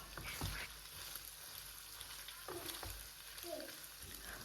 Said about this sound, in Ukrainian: До підсмаженого м'яса я викладаю нарізану цибулю та підсмажую цибулю до золотистого кольору